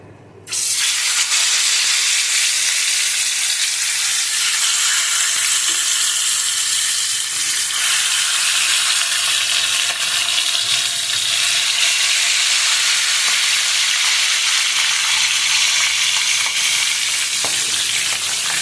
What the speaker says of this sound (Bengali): ভাজাগুলো ভালো করে ভেজে নিয়েছি কড়া করে